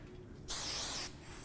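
Hairspray hisses from a can onto freshly teased hair in one steady burst of about half a second, close and clear, then tails off into a fainter second spray.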